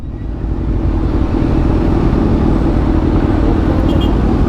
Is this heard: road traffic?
yes